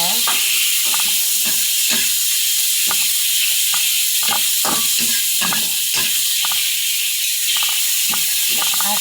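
Tomatoes sautéing in a pan give a steady high sizzle, broken by a run of sharp stirring scrapes and clicks close by, with no talking.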